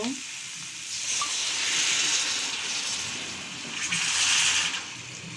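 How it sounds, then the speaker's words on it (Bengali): Water is poured into a hot pan of tilapia fish curry cooked with green banana, raising a loud, steady sizzling hiss that swells twice and then eases. "এখন আমি পরিমাণ মতো পানি দিয়ে দিব"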